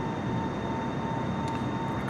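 A steady, loud airplane engine drone from Microsoft Flight Simulator, heard from a drone camera angle as a continuous close hum with a constant tonal whine throughout and no talk.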